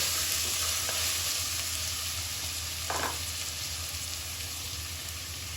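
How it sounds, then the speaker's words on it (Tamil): Ginger garlic paste sautéing in a pan for a mutton gravy, a steady, close sizzle that runs unbroken throughout, with a brief scrape of stirring partway through. "இஞ்சி பூண்டு போட்டு நல்லா வதக்கி விட்டுக்கோங்க"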